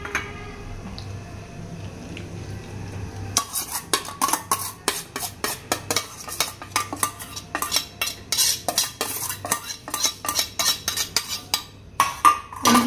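Yogurt-marinated biryani mixture with cauliflower being sautéed in a pan. After a quiet start, a spoon strikes and scrapes the pan in a quick, rhythmic run of clinks under a soft sizzle.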